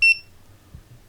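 A cheap pen-style multimeter from Aliexpress gives a short, high electronic double beep at the very start, then falls to near silence with faint low room hum.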